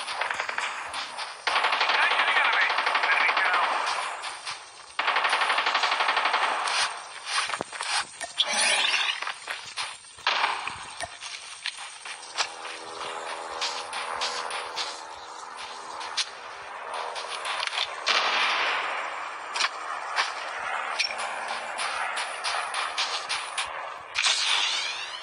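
Call of Duty Mobile battle royale gunfire rattles in long, loud automatic bursts with brief gaps, alongside clanks, scrapes and footsteps in a busy game soundscape.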